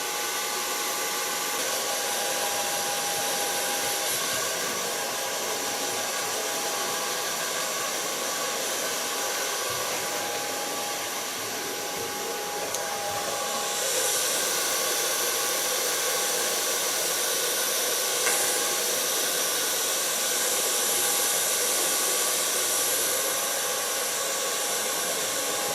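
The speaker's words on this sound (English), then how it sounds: "So far blow drying." A hair dryer blowing continuously during a man's haircut, a loud steady close-up whoosh and whine that shifts slightly as it moves around the head, lasting throughout with no talking.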